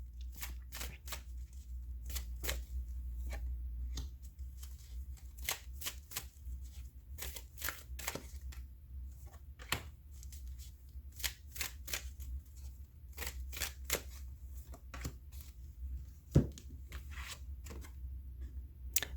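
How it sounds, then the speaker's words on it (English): A tarot oracle card deck being shuffled, the Ask an Angel deck, giving crisp riffling snaps in repeated bursts over a steady low background hum, with no talking. "Let's give this a good shuffle."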